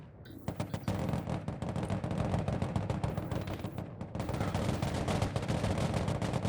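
Units in the real-time war game Broken Arrow unleash dense, continuous automatic gunfire, rapid rattling bursts packed closely together and loud almost from start to finish, with one brief lull midway.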